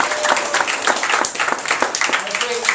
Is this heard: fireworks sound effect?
no